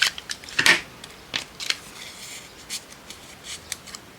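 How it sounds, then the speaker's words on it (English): Scissors snip through scrap paper at a craft table, a handful of short, crisp cuts spaced irregularly and close up, with quieter paper rustling between them and no talking. "I'm going to have to just snip this one down a little bit."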